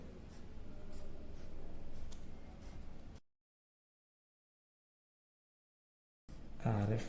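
Chalk or marker scratching on a board during an engineering lecture, a faint textured scrape for about three seconds, then silence, then a louder burst at the end.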